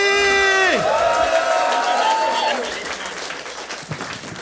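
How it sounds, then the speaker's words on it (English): Comedy club audience at a stand-up all-stars show applauding and cheering loudly, dense clapping with a sustained whoop over it, fading after a few seconds as a voice talks briefly. "And one more big round of applause, Heather King!"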